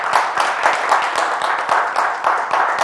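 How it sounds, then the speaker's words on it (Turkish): Steady applause from an audience at a televised Turkish Disability Day special, a dense continuous patter of many hands clapping at even loudness throughout. "bir kocaman alkış"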